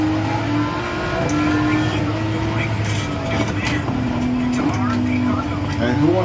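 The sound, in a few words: Suzuki Escudo car engine in video game Gran Turismo 7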